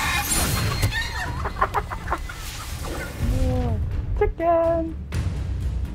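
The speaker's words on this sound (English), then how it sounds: "Chicken." Chickens cluck in Hogwarts Legacy, a run of short, close clucks and squawks rising over steady game ambience, with a voice talking briefly near the start.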